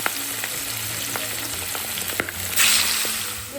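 Hilsa fish frying in hot oil, a steady close sizzle with scattered pops and splatters and a louder hissing burst near the end.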